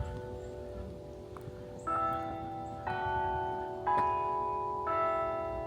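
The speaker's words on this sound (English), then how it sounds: "Church bell." A church bell in a quiet harbor town rings out in slow, evenly spaced strokes, each tone lingering and overlapping the next, heard from a moderate distance.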